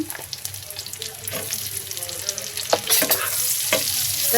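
Chopped onions frying in a pan, a close crackling sizzle with scraping stirs that grows louder and hissier toward the end.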